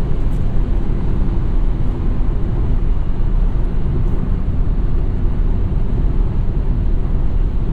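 A 2017 VW Golf SportWagen 1.8TSI S 4Motion drives under power, heard from the cabin as a steady, loud drone of engine and road noise with no distinct gear-change breaks.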